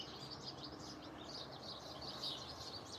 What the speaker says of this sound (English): the birds haven't quit singing. They're so loud.